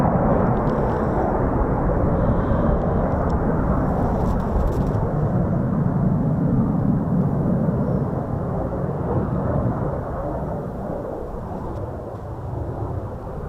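Military aircraft landing at RAF Coningsby, a loud, deep jet roar rumbling steadily and then easing off slightly toward the end, heard from outdoors.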